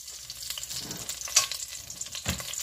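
Bay leaves sizzle in hot oil in a cooking pot, a steady bright crackling hiss with a louder spatter near the middle and a stirring clunk near the end, no talking.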